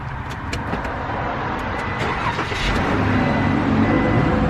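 RAM ProMaster van engine cranking and firing up close by. The starter whirs briefly, then the engine catches and settles into a loud, steady run.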